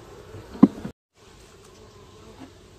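Honey bees buzz faintly around an open hive during an inspection on a hot day, a low hum with one brief louder pass close by.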